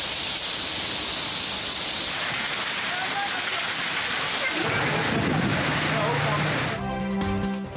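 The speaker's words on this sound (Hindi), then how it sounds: "लाहौर में आंधी के बाद तेज बारिश" Heavy rain pours down after a storm in Lahore, Pakistan, a dense, continuous roar, loud and steady throughout, with a deeper rumble building partway through.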